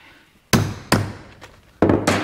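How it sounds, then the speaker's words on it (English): Hammer blows land on two-part hand dies setting a metal eyelet by hand, three sharp, loud, close strikes spaced unevenly with a faint ringing tail after each. "it's literally just using hand dies and a hammer."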